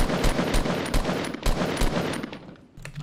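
Gunfire from The Walking Dead: Road to Survival video game, a string of sharp, punchy shots at an uneven pace, loud and up close, with no talking over it.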